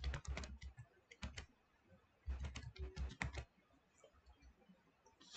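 Quiet, close bursts of keystrokes on a computer keyboard, two short clusters of rapid clicking separated by a brief pause, with a few scattered taps trailing off.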